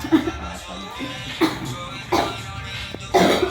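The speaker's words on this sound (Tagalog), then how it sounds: "Inuubo na si Bunso." A child coughs in several separate bursts spaced about a second apart, close by, with faint background shuffling between them.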